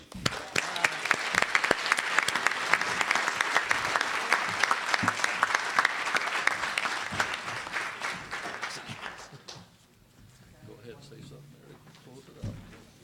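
Sustained audience applause fills a conference hall, dense and steady for about nine seconds before dying away into quiet room noise and speech.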